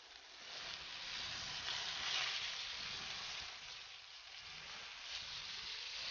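Fish browning in a hot pan for escabeche makes a steady, even sizzle of frying oil, close and continuous throughout with no talking.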